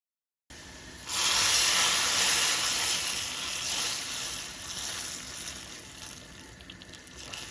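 Hot oil tempering with browned garlic and onion is poured onto cooked lentils, bursting into a loud, bright sizzle that hisses steadily and slowly fades while still crackling, with no talking.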